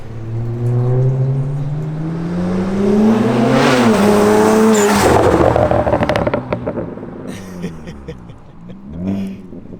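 A BMW 335i with a straight-piped race exhaust and resonator revs hard, rising to a loud roar and then dropping back, with a second brief blip near the end.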